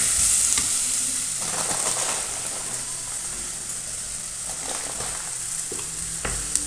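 Coriander powder sautéing in a pan for an aila (mackerel) curry, a continuous hiss of frying with intermittent scraping stirs, close and fairly loud with no voices.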